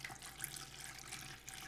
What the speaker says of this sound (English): I'm going to slosh some water around,